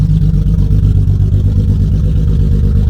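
A BMW E36 engine idles roughly with no exhaust fitted and one of its six cylinders dead, giving a loud, close, uneven low throbbing clatter with a stumbling pulse throughout.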